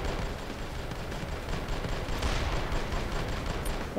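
Gunfire in the video game Deus Ex: Human Revolution, The Missing Link: a dense, continuous rattle of shots and booms from a distance, steady throughout with no talking.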